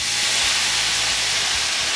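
Steam hisses steadily from a pot of water and wakame seaweed on the stove, a loud, unbroken close-up rush.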